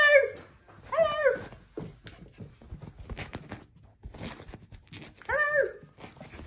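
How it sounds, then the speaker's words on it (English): A dog whimpers and yips in high, wavering whines, a few bursts with short pauses between, close and fairly quiet. "look at my dog"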